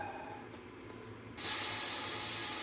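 An airbrush or spray gun begins applying candy-base paint after a quiet stretch with low mechanical hum, starting abruptly as a loud, steady, broad hiss that continues without talk.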